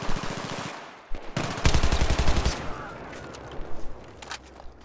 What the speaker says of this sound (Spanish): Estoy disparando ahí a bocajarro y no le di.